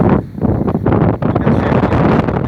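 Strong gusty wind buffets the microphone near flying pigeons, a loud rumbling roar that surges and dips in uneven bursts.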